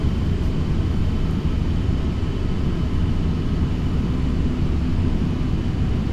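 Boeing B-52H Stratofortress engines throttled down in the X-Plane flight simulator, a steady, loud, low jet rumble that holds even and unbroken throughout with no voices.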